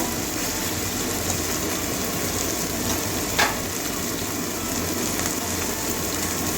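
Prawn heads fry in hot oil in a pan with a steady, dense sizzling hiss like rain on a surface, broken once by a brief sharp clink of stirring midway; no speech is heard.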